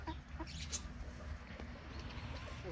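Faint, distant clucking and soft sing-song calls from a laying hen in a farmyard coop, set against low background noise.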